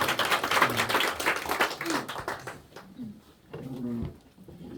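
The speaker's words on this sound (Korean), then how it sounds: "하나님께 영광의 박수 올려드리겠습니다" Church congregation clapping together during a Sunday morning worship service, a dense burst of hand claps filling the first half, then thinning into scattered taps with some talking mixed in.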